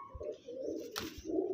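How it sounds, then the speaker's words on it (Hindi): A pure-bred pigeon of an old Baba Dhanya line gives a soft, throaty coo close by, a short rolling call that swells, dips and rises again. "बहुत प्यारा कबूतर है।"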